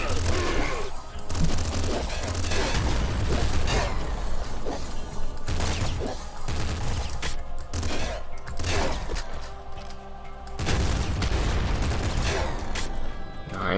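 Assault slugger fire in Nuclear Throne, repeated heavy punchy shots mixed with explosions and crashes, loud and steady over busy game sound with a voice talking at times.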